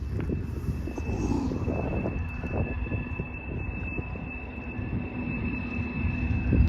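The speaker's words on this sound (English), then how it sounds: "I hear a train." A train rumbles past in the background near a riverside, a continuous low mechanical roar with a steady faint tone riding above it, moderately loud and unbroken, with no voices.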